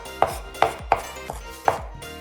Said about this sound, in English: Cut the well-washed scallions into small pieces.